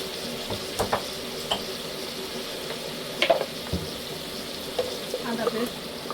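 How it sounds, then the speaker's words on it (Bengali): Spices and garlic paste fry in a pan while being stirred for a sunfish curry, a steady soft sizzle with occasional scraping clicks and light clatter up close. "মশলাটা নেড়ে দেবো।"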